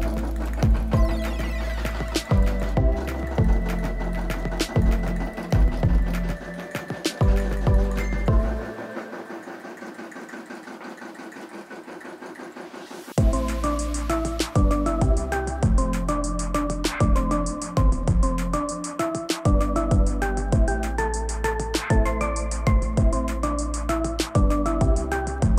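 A Brother SE600 embroidery machine stitches out a patch, running steadily with a dense rhythmic mechanical chatter and stepping motor whir, pausing briefly midway before resuming its busy stitching.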